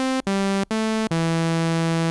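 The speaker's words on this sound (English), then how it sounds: "You begin with a very simple sawtooth, which sounds like this." A simple sawtooth wave from a synthesizer oscillator plays as a bright, buzzy sustained tone, stepping through four notes separated by short gaps, with the last held longest, loud and clean with no talking.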